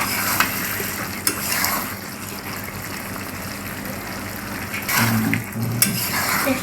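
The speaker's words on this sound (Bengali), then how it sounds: "এখন আমি ঢাকনাটাকে তুলে নিলাম, একটু নাড়াচাড়া দিয়ে দিচ্ছি।" Potatoes and chicken skin stirred in a pan, soft scraping and sizzling with a few sharp utensil clicks against the metal, close and fairly quiet.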